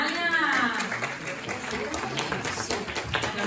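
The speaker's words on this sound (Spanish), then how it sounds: "Un aplauso a Natalia." Conference audience at a press event breaks into applause, a dense burst of clapping that starts strong and tapers slightly, with a voice speaking over it.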